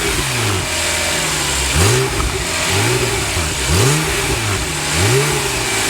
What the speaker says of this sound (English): Porsche is really always known for their distinctive exhaust notes